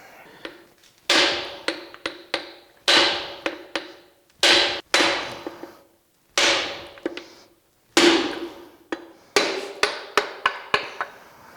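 Sharp, ringing metal hammer blows on a Buick Nailhead V8 engine block, struck in quick clusters of several hits separated by short pauses, close and loud with no talking.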